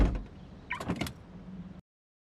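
A kitchen door swings open with a short rattle and mechanical creak, its broken knob clattering before it is wedged with a stone; brief and close, ending abruptly in silence.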